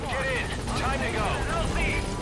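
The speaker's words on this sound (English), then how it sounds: "So let's get in the helicopter." A helicopter hovers at a landing zone in Metal Gear Solid 5: The Phantom Pain, its rotor a constant loud whir with chirpy radio-like tones on top, under speech.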